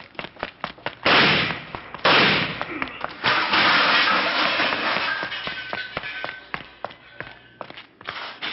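Gunshots ring out in a radio crime drama, a burst of sharp close reports and loud blasts, followed by tense men's dialogue.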